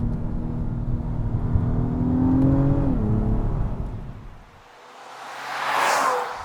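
A 2024 Acura TLX Type-S with a V6 and 10-speed automatic accelerating hard, engine note climbing then shifting, fading briefly before a whooshing surge of wind and road noise, no talking.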